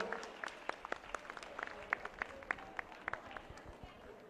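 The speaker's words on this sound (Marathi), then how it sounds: "आपण जोरदार टाळ्या वाजवून त्यांना धन्यवाद देऊया" Scattered, fairly faint applause at a church women's day event after a dance performance, with distinct individual claps in an uneven rhythm over a soft room background and possible murmuring.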